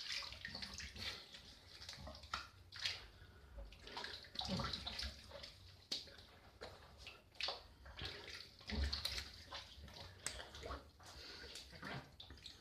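Water runs and splashes at a sink as shaving lather is rinsed from a face, with irregular bursts of splashing and dripping over several seconds, no talking.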